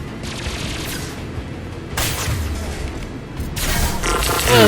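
Weapon fire from the sci-fi shooter Mass Effect 2, rapid crackling bursts over a rumbling background, growing louder in two sharp surges near the middle and end, with no voices.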